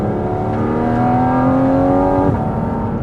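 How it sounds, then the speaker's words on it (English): Inside a Porsche 718 Cayman GT4 RS on a wet road, the engine drones steadily at part throttle, a loud, continuous rising tone that fills the cabin with no voices over it. "this car sounds amazing on the inside"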